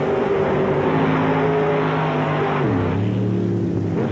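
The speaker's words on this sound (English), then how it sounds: "in the big 605 cubic inch Chevrolet. It's alcohol injected, nitrous oxide" A 605 cubic inch alcohol-injected Chevrolet engine with nitrous oxide roars at full power in a mud racing Jeep, a loud, sustained, close-up drone with strong harmonics whose pitch shifts downward partway through, as on a gear change.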